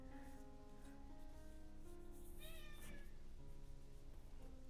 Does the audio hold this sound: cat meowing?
yes